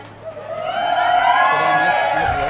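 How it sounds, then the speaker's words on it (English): A crowd at the Penticton Curling Club whoops and cheers for a team at a curling classic, a swelling roar of voices that holds steady, with a commentator talking over it. "Everybody cheering on Team De Jong"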